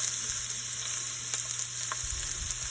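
Onions frying in hot oil with bay leaves for chicken and potato samosa filling, a steady close sizzle running throughout, with a few light stirring knocks near the end and no voices.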